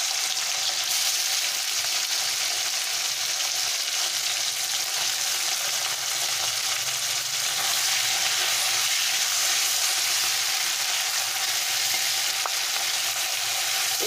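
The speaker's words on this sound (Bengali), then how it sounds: "এবারে আমি এটাকে ট্যাংরা মাছগুলো সব দিয়ে দিলাম।" Tangra fish sizzle and fry in hot oil in a pan, a constant, close, crackling hiss that runs evenly throughout with no voices over it.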